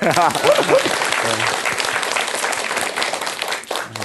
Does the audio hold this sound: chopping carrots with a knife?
no